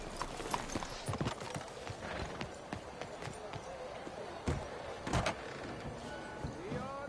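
Horse hooves clip-clopping in Red Dead Redemption 2 as a rider moves at a walk, irregular clops with scattered knocks and clatter, moderately near, with game character voices around them.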